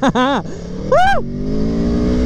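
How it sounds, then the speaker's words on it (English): A motorcycle with its stock exhaust revs hard twice in sharp rising-and-falling bursts, then settles into a steady rumbling idle close by. "I've come to appreciate the stock exhaust on this bike"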